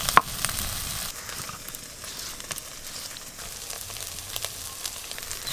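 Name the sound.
chili paste sizzling as it is added to a frying pan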